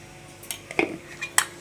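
A spoon stirs garam masala, turmeric and salt together for a paneer tikka marinade, giving a few light, scattered clinks and scrapes against the bowl, quiet and close, with no talking.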